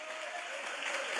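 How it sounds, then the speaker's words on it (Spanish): A brief burst of church congregation applause: steady, dense clapping from a room full of people, heard alone for just over a second. "Dele un aplauso al Señor."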